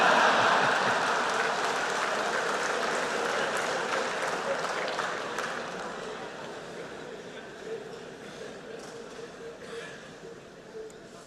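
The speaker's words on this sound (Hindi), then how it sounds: "आया हूं इसकी ताली बजा रहे हो।" Loud applause from a large audience in a hall, a dense wash of clapping that gradually fades over about ten seconds, with a few murmurs and laughs underneath.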